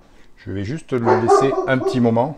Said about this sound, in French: Ça, c'est mon chien qui s'exprime.